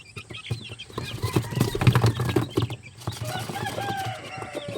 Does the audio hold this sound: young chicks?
yes